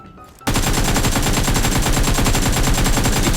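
Rapid automatic AK rifle fire in a video game, a loud, sustained burst of closely spaced shots that starts abruptly after a brief quiet moment and continues steadily to the end.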